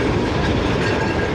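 A passenger train rolls along the rails on the approach to Lahore Junction near Shahdara Bagh, a loud, close, continuous rumble with clattering wheel noise throughout.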